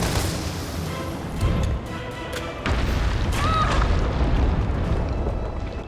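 A huge boss creature collapses in Resident Evil 3 (2020), producing a heavy rumbling crash and booming impact, loud and sustained, with lingering debris-like roar and a faint metallic whine afterward.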